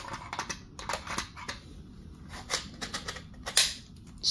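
Battery adapter plate for a Dewalt tool slid onto its rails, giving a run of small plastic clicks and scrapes with a sharp snap near the end, close and fairly quiet.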